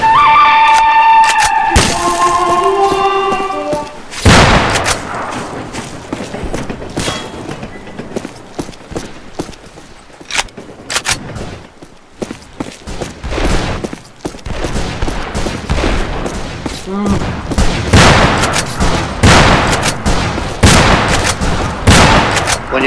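Gunfire in the Fistful of Frags shooter game on hard mode, loud sharp shots in rapid bursts and scattered single cracks, with quieter gaps between volleys and a brief tonal sound at the start.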